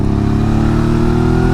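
A Suzuki V-Strom 650 motorcycle engine pulls steadily under acceleration while carrying a pillion passenger, a continuous loud mid-pitched drone heard from the rider's position with wind rush.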